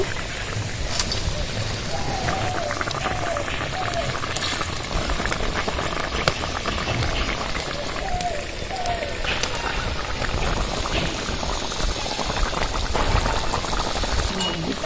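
Fish tipped into a bubbling pan of mustard gravy simmer with a steady, close boiling and crackling hiss, continuous throughout, with brief soft liquid slurps and no talking.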